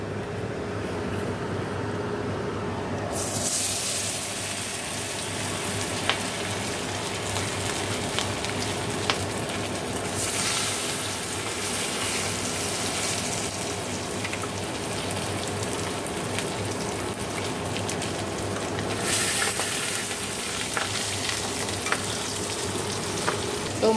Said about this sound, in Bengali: এখন আমি এখানে মাছটা ভাজবো।